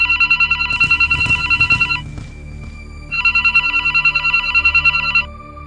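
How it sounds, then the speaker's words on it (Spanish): A mobile phone rings close by in two loud bursts of repeating electronic ring tones, with a short gap between them and no voices. "Ya que sentí como un móvil, empezaba a sonar a pocos centímetros de donde estaba."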